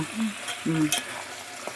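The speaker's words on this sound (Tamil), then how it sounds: "இப்போ நல்லா வதக்கிட்டு கவியை காணும் நல்லா வதக்கிடுவோம்." Vegetables sizzle and hiss in a hot pan while a utensil scrapes and stirs through them, with a couple of clinks close by.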